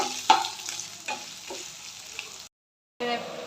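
Ginger and five-spice seeds being fried in oil and stirred in a pan, with a soft sizzle and a few scraping stirs, a sharp clink near the start and a brief silent gap before the sizzle resumes.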